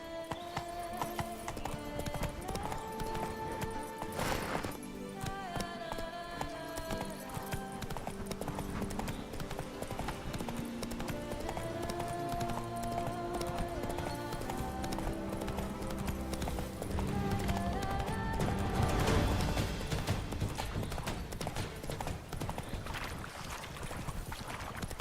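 Roach the horse galloping through The Witcher 3's wine country, rhythmic hoofbeats running continuously beneath layered game music, with a brief whinny and a short spoken line now and then.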